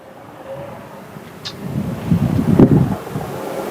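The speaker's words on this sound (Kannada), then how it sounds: "ಗಾಳಿ ನೋಡ್ರಿ ಈ ಗಾಳಿ ಬೆಳಗಿನ ಟೈಮ್ನಾಗ" Morning wind blowing outdoors near farm plants, a steady rushing gust that swells louder toward the end, with no voices.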